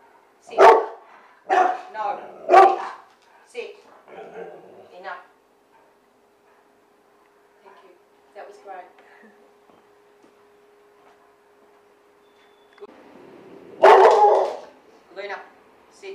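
A female dog barks sharply in short bursts of several barks during a training session, close by, with quieter yips in between and a person's voice giving commands between the barks.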